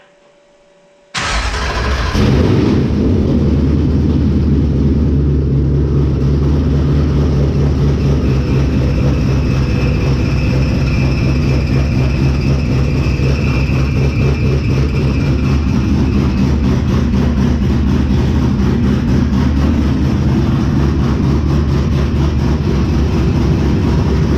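A Coyote-swapped 1971 Dodge Challenger R/T fires up for the first time after a quiet moment, catching abruptly and settling into a loud, steady, close idle that runs unbroken to the end.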